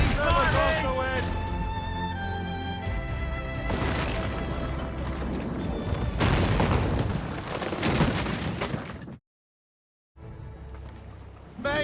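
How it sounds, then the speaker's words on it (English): Naval battle cannon fire in Assassin's Creed Rogue, heavy booming blasts and crashes over music and shouted crew commands, cutting to silence briefly before resuming. "Fire! Enemies firing!"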